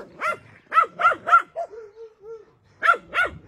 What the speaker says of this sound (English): He's barking to Charlie, to Max, to Rudy